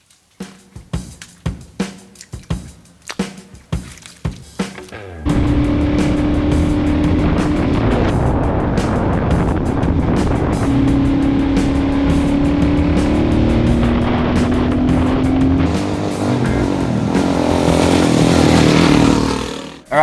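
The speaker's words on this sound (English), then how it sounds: "this is my Suzuki DRZ 400E Cape York edition" A Suzuki DR-Z400E dirt bike engine idles with sputtering pops, then revs up into a loud, steady roar that holds close by, rising near the end.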